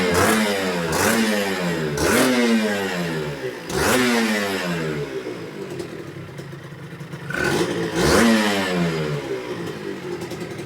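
Suzuki RG150 motorcycle engine, apparently still on choke, revving up and dropping back repeatedly in close, loud bursts, each rise sweeping upward before falling away, with a rough clattering idle between the revs.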